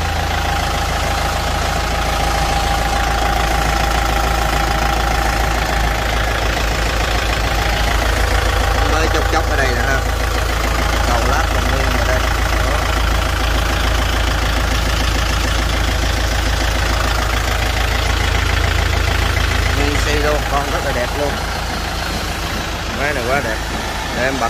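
Kubota M6040SU tractor engine idling with a steady, loud low rumble throughout, close by and continuous, with someone talking over it.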